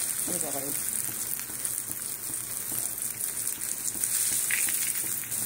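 Pakoras frying in hot oil in a pan, a steady crackling sizzle like light rain that holds at an even level, with a brief voice murmur near the start.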